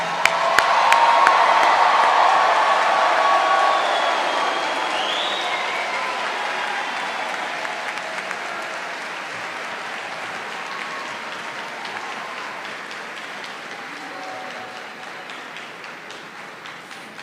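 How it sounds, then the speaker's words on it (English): A commencement audience applauds the graduates at a spring engineering ceremony, sustained crowd clapping with some cheers and whoops, loudest at first and slowly thinning over about seventeen seconds. "Let's give them another round of applause."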